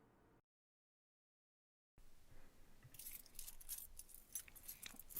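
Keys jangle and clink against a lock in bright, close metallic bursts after a short silence, as someone struggles to open a door, the rattling growing busier and louder toward the end.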